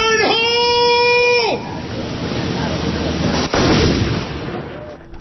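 A replica of Sutter's Cannon at a California state park near the state capitol fires with a loud boom and rolling rumble after a brief whistling tone, with a second sharp report a couple of seconds later.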